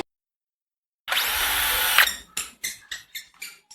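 A Blackzero cordless electric drill cuts through thin lightweight PVC pipe in one loud, fast burst of about a second. A series of short, fading whirs and clatters follows.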